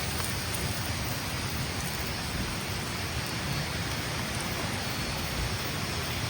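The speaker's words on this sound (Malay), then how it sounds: "Gerimis-gerimis." Steady light rain drizzling over a busy palm-plantation campsite at night, a dense, even patter that runs unbroken and fairly close throughout, with no voices.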